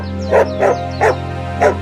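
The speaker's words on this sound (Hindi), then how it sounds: "परंतु तुम इतना जोर जोर से क्यों भौंक रहे हो?" A cartoon dog barks loudly and insistently on a roadside, four sharp, evenly spaced barks over a steady low hum, close and alone without talk.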